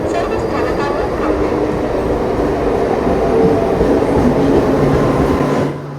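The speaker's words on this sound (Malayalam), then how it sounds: "ഇതാണ് നമുക്ക് പോകേണ്ട ട്രെയിൻ കേട്ടോ" Mumbai local train at Mahalaxmi station, a loud, close rumble of rolling carriages with a faint clickety-clack that holds steady and then drops off abruptly near the end, no talking.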